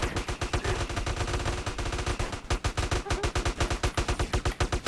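Rapid automatic gunfire in a GTA roleplay gang war during a weapons warehouse robbery, dense bursts of shots fired continuously and loudly for the whole stretch with no talk.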